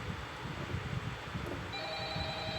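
A telephone rings in the Five Nights at Freddy's horror game, its electronic tone rising over a murky background hum in the second half.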